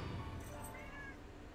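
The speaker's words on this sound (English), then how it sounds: "Got one of my cats crying in the background" A house cat meows faintly in the background, a couple of short drawn-out cries rising over a steady low hum of game sound.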